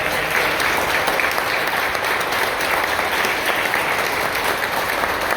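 Sustained, dense applause from an audience at a 50th-anniversary ceremony for the discovery of the Tibes Indigenous Ceremonial Center, steady and fairly loud throughout with no break.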